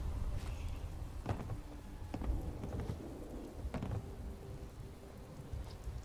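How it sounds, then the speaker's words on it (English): Rain falls steadily on a surface through a thunderstorm, with several sharp thunder cracks and low rumbles breaking over the continuous hiss. "Looks like we got a storm"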